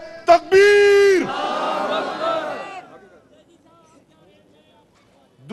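At a political rally in Pakistan, a single voice shouts a slogan into the microphone and a large crowd roars back a loud chanted reply. The crowd's response swells, holds for about a second and a half, then fades into quiet.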